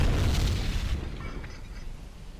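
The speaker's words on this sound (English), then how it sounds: "He just shot a star shell." A star shell fired overhead in the naval submarine game Silent Hunter III, heard as a single loud deep boom that fades quickly into a low rumbling tail, with no talk over it.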